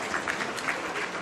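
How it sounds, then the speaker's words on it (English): Audience applause at a gala charity auction, a dense steady patter of many hands clapping alone for a brief moment. "let's have a round of applause"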